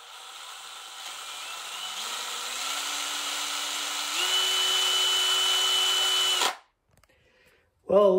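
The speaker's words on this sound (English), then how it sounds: "when you get ready to upsize these two holes in your spar, clamp this together somehow before, while you're drilling them" A power drill bores holes in the spar of a Zenith CH750 CruZer kit aircraft, a steady whine that rises in pitch in steps for about six seconds before stopping abruptly, followed by a brief mechanical rattle.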